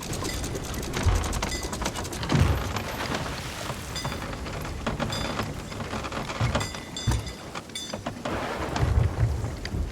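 Steady heavy rain and rumbling thunder fill a stormy sea scene in the pirate video game Sea of Thieves, with a dense constant wash and louder crackling thunder swells near the start and end.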